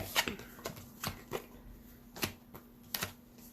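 Oracle cards pulled one by one from a deck produce a series of short, crisp card slaps and flicks at irregular intervals, close and fairly quiet, with no speech.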